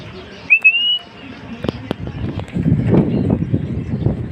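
Racing pigeons fly together after a mid-air toss: a brief high whistle-like chirp, a few sharp clicks, then a rising soft fluttering rustle nearby.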